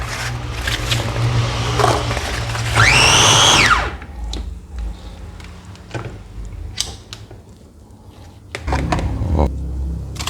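A loud electric food chopper whirs in a steady, high-pitched burst for about a second while chopping apples, surrounded by kitchen clatter and background noise.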